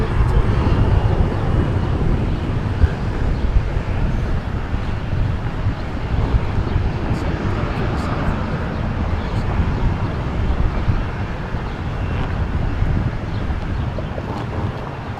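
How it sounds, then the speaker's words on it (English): A Southwest Boeing 737-800 jet taxiing at Milwaukee Mitchell airport makes a steady, loud low rumble and broad roar that holds through the whole stretch, with wind buffeting on the microphone. "Next in line, Southwest 1286 taxiing out on a 737-800 to Dallas Love Field."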